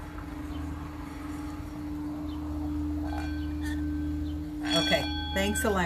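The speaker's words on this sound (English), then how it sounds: "And I'll ring the bell." A hand bell is rung indoors near the end, a few bright ringing strikes over a steady electrical hum, with a person speaking softly beforehand.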